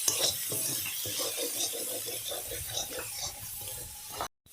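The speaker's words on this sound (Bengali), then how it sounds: "মশলা কষানো হয়ে গেছে" Spice paste frying with a splash of water for aloo dum, stirred in the pan with a steady sizzle and repeated scraping strokes, close and continuous until a brief cutoff near the end.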